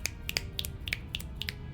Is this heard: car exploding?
no